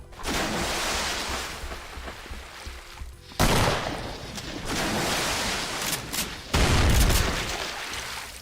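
Pistol gunfire in a video game, loud close shots in three separate bursts with brief gaps between them, sharp onsets and a dense crackle running through each burst.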